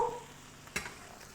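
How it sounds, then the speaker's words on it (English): Fish skin frying in hot oil in a pan gives a faint, steady, close sizzle, broken by one brief scrape or clatter midway, with no one talking. "I think that's been long enough for the skin to be frying."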